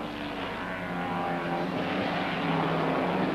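A 5.7 litre V8 Chevrolet Camaro racing saloon car and a close rival at Crystal Palace circuit in the 1971 British Saloon Car Championship, giving a loud, sustained engine roar with no break and no voices.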